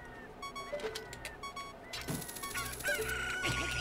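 A chicken clucking in the video game Zelda: Ocarina of Time, short repeated clucks over game music and effects, fairly faint in the mix.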